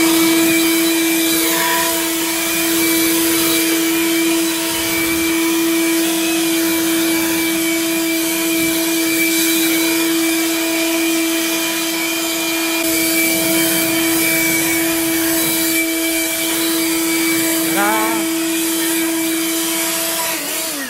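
Loud leaf blower running indoors in a library, a constant high whining roar that holds steady throughout, with no talk over it.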